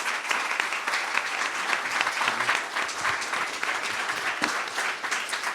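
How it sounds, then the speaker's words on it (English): Audience applause at a Louisville Forum public event on safety, a dense, even roar of many hands clapping that holds steady for several seconds without talk. "So let's give them a round of applause."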